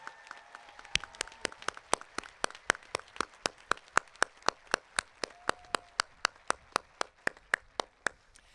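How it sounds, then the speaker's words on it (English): Applause for graduates at a high school graduation ceremony, heard as sparse, sharp, evenly spaced claps that ring out one after another in a large, quiet space, steady and fairly distinct rather than a dense ovation. "Let's give our graduates a warm round of applause"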